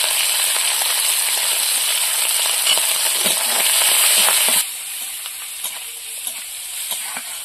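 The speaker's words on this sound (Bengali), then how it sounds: "চিংড়ি মাছগুলো ভাজা হয়ে গেছে" Prawns coated with turmeric and salt fry in oil alongside mustard seeds, with a dense, crackling sizzle and occasional stirring scrapes that drop to a softer sizzle partway through.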